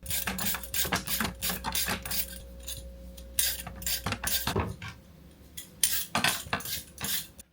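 A knife strikes a cutting board in quick, uneven bursts while vegetables are chopped for stock, crisp close taps with short pauses between runs and no voices.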